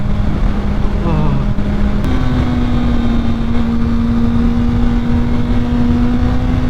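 A 2006 Honda CBR1000RR motorcycle engine drones steadily while riding, a loud, continuous hum with a constant pitch that steps up slightly partway through, under heavy wind rush.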